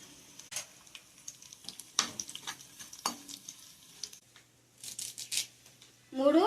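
Small onions and dried red chillies crackle in hot oil for a mango peel pickle tempering, soft intermittent sizzles and spoon taps close by, then a louder burst of frying at the end.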